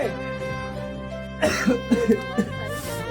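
A few short, harsh coughs in quick succession partway through, close up, following a stretch of steady background noise.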